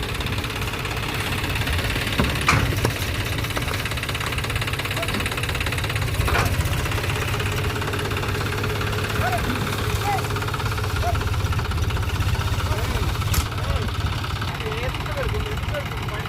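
A tractor engine idles with a steady low chugging knock, close and constant, while voices talk faintly in the background.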